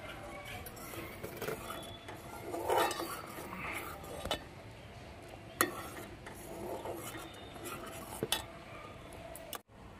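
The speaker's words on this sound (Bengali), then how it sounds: "যে দুধটা অল্প অল্প ফুটে উঠেছে, এবার নেড়ে দেবো আমরা।" Gently simmering milk is stirred in a pot, producing soft scraping and rubbing with a few distinct clinks of the utensil against the pot, fairly quiet and close, without speech.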